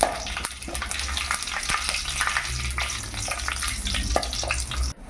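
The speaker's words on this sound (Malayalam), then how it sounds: "എണ്ണ, കടുക്, ബേ ലീവ്സ്, ഏലക്ക, ഗ്രാമ്പൂ, പട്ട, പെരുംജീരകം ഇതെല്ലാം കൂടി ഒന്ന് ഇളക്കി കൊടുക്കുക" Mustard seeds, bay leaves, cardamom, cloves, cinnamon and fennel sizzling in hot oil in a pan, a dense continuous crackle with scattered pops and the scrape of stirring throughout.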